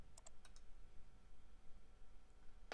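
Faint computer mouse clicks while working in Revit Structure 2013 software, a few quick soft clicks near the start over a quiet hum.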